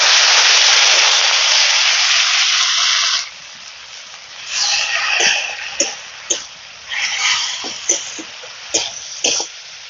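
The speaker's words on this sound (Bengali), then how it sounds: "এবার অল্প একটু জল দিয়ে মশলাটাকে কষিয়ে নেব।" Spice paste of turmeric, ginger and coriander frying in a pan as a little water goes in: a loud burst of hissing for about three seconds, then softer, intermittent spurts of sizzle and sputtering, with no speech.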